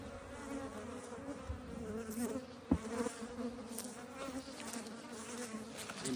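Honeybees buzz steadily around a hive at a farm apiary, a dense, continuous drone of many wings close by with a brief louder pass midway and no talking.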